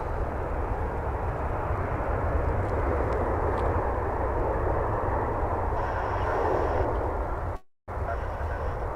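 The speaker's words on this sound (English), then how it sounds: "That was Avianca flight 440 coming in from San Salvador." Avianca flight 440, an airliner arriving from San Salvador, lands at DFW airport, its jet engines a loud continuous broadband roar that holds steady throughout with a brief dropout near the end.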